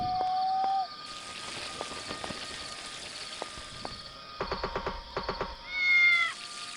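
A many-eyed cat creature in the island exploration game Outlying Islands meows several times, with a rising tonal meow at the start and a later drawn-out cry, amid soft rain-like patter and game ambience, with no talking.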